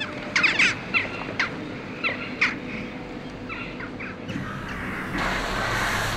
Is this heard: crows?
yes